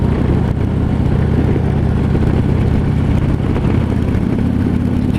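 A 2015 Harley FLHTP motorcycle with stock exhaust pipes rumbles steadily on a test ride, its loud, continuous engine drone mixed with road and wind noise and no voices.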